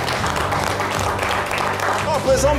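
Applause from an audience at a televised awards segment of a music show, steady and moderately loud clapping under a murmuring crowd throughout.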